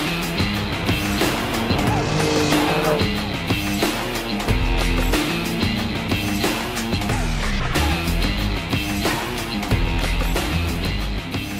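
A 2017 Ford F-150 Raptor driven hard off-road in Baja mode, sliding with its wheels spinning. The engine roars loudly and continuously with rising and falling revs, and tire and gravel noise runs underneath.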